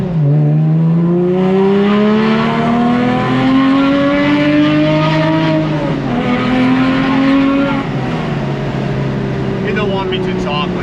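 Porsche 996 GT3 engine revving hard, its loud, rising and falling wail climbing through the gears over about ten seconds, then easing before a final brief rev, heard close and alone.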